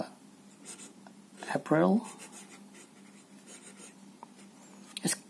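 Staedtler Initium Metallum fountain pen writing in emerald green ink, a soft close scratching of the nib on paper that comes in short strokes, with a voice speaking briefly over it.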